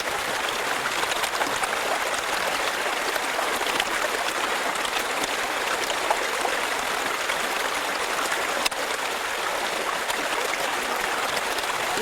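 River water flows steadily at the edge of a stream during gold panning, a continuous close broadband rush with no break.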